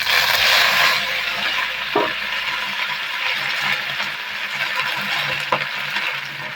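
Dried chillies and nigella seeds fry in a pan with a steady, close sizzling hiss, broken by a couple of faint clinks and scrapes.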